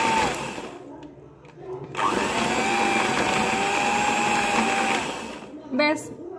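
Cake batter with nuts and cherries being mixed by a motorized mixer, a close, steady whirring drone that pauses briefly and restarts, with a voice talking over it.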